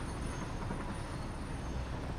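A monorail train runs along elevated track in the video game Satisfactory, a steady close rumble of rolling rail noise with no voices over it.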